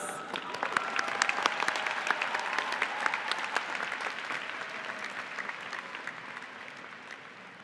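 Graduation ceremony crowd applauding the diploma recipients, a full, sustained burst of clapping from a large audience in a hall that slowly thins and fades toward the end.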